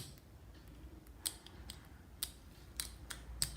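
Scissors snipping through gelli print paper in a quiet craft setting, a handful of crisp, separate clicks and cuts spaced irregularly over a few seconds, close and fairly soft.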